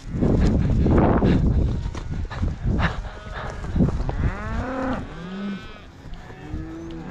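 Cattle moo loudly and close on a ranch during herding, several long drawn-out calls following rough noise and wind at the start, with no talk.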